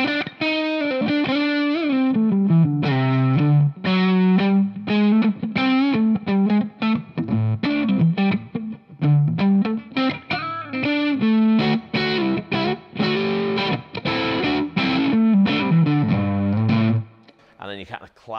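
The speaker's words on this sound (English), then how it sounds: "And this is your drive tone." An overdriven electric guitar through the drive channel of a Laney Lionheart L5 Studio Class A valve amp plays a continuous, busy riff with chords and single notes, loud and close, with a brief gap near the end.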